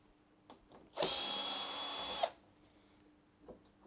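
A power drill runs in one steady burst of a little over a second, driving out a screw from the panel of an LG tumble dryer, close and loud against a quiet room with faint knocks before and after.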